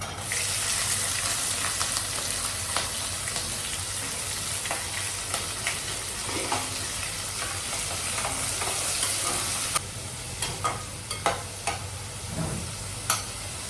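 Continuous sizzle of onions and green chilies frying in hot oil as tempering for a fish curry, with scraping stirring sounds and crackles throughout, close and fairly loud.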